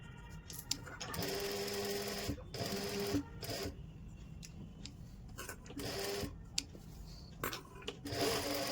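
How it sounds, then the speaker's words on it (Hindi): A sewing machine runs a seam along the buckram of a suit collar in several brief, close bursts separated by short pauses, with no talking. "यहाँ से लेके यहाँ तक बिल्कुल बुकरम के साथ साथ में सिलाई लगानी है"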